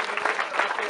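Audience clapping at a hall of fame induction ceremony during a sports club's 90th anniversary in Broumov, a brief dense burst of close, steady applause from a crowd indoors.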